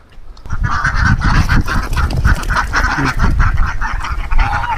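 Loud, continuous honking and squawking from turkeys and guinea fowl at once, close by, overlapping calls with a busy, rough texture throughout.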